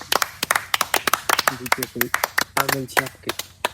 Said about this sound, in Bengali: হাততালি দাও সবাই একটু হাততালি